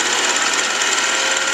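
A mini lathe running at roughly 1500 RPM gives a steady, loud, broadband whir with a constant high machine whine, unbroken and with no talk.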